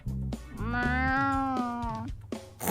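A cartoonish cat meows in a video game, one long sustained wavering meow bracketed by short chirpy mews, loud and close with no talking over it.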